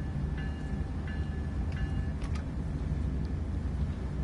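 Simulated commuter train running on the Peninsula Corridor in Train Sim World 2, a steady low rumble throughout with faint intermittent tonal chimes and clicks above it, no talking.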